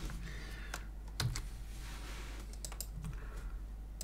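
Computer keyboard key presses, several scattered clicks and taps at an uneven pace, soft and close over a low steady hum, with no talking.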